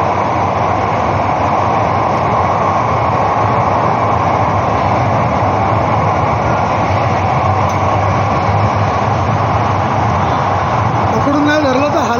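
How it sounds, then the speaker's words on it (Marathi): Mumbai Aqua Line 3 metro train runs at full speed through an underground tunnel, a loud, unbroken roar and rumble inside the carriage lasting throughout, with a faint squeal rising near the end. "फुल स्पीडला आहे गाडी, फुल स्पीडला. आवाज बघा किती येतो, खूप जोरात आवाज येतो अंडरग्राऊंड."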